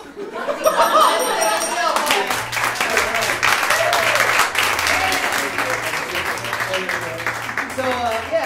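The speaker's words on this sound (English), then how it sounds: "So based on that applause, I would give them 3 points." A live theater crowd at a Whose Line improv comedy show in St Pete breaks into loud, sustained applause, with scattered cheers and whoops rising over the dense clapping throughout.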